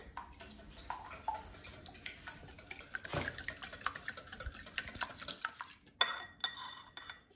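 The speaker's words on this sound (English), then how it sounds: "And I'll whisk the egg." An egg whisked in a bowl for chocolate muffin batter, a rapid run of clinking, scraping taps of utensil against the dish, close and moderately loud, continuing steadily with a brief pause near the end.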